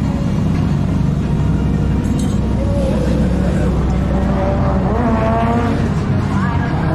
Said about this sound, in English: C33 Laurel diesel drifting.